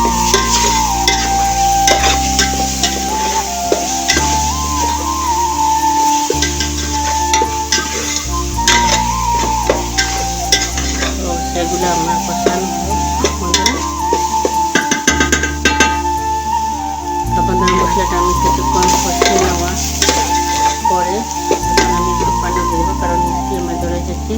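Fish masala for a rohu curry with new flat beans is stir-fried in a pan. A spatula scrapes and stirs rhythmically over a constant sizzle, with background music and a voice now and then.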